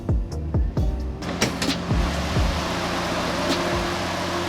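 Electric cooling fans whir steadily on a 1JZ-swapped 240SX parked in an alley, a continuous close hum with a few sharp clicks and knocks early on, no voices.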